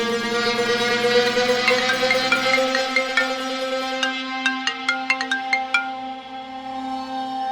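A phone ringtone plays a melodic tune, followed by a run of bright, plinking chime notes, moderately loud and alone.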